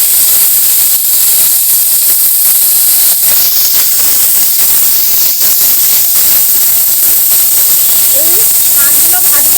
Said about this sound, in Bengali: এবার এই মাছগুলো ভাজবো